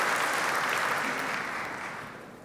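Broad audience applause fills the hall at a children's peace prize ceremony, a dense steady wash of many hands that slowly fades toward the end.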